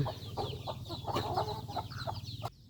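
A flock of about thirty hens clucks close by at a rural Thai home, busy overlapping clucks and short calls repeating in quick bursts, fairly loud, ending abruptly.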